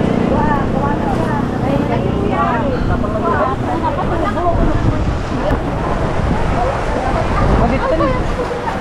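Wind-driven rain batters an open-air market during a storm, with tents being blown about, a loud continuous roar and gusts throughout while people talk and shout.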